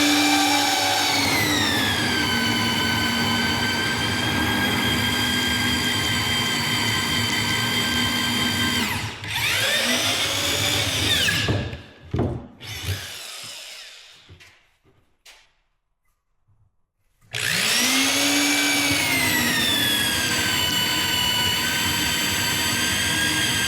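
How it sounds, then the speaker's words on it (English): A worn, failing power drill whines steadily at close range with a high harmonic pitch, bogs down and cuts out briefly, sputters through a near-silent gap, then roars back to full speed while being used to build a log bench. "I think my drill's dying finally."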